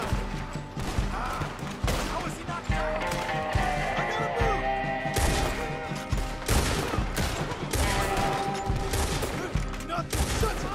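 Gunfire in Red Dead Redemption 2, sharp shots cracking in rapid irregular bursts against a dense background of battle noise and music.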